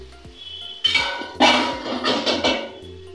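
A metal lid goes onto a pot of Bengali motor-biuli-chingri daal cooking with vegetables and green chillies, giving a few close clinks and clatters in quick succession.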